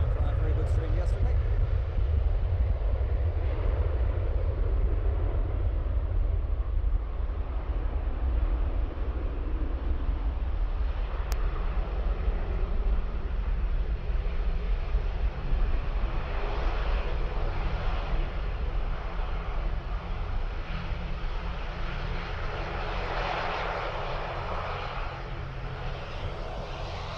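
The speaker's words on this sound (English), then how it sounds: "ATR 72-600." An ATR 72-600 turboprop airliner at Dublin Airport gives a steady low engine drone and rumble throughout, moderately distant, while a person talks over it at times.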